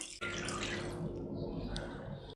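A cup of lukewarm milk poured onto softened butter in a kneading bowl for cheese pastries: a short, continuous liquid gurgle and splash that starts abruptly and stops just as suddenly.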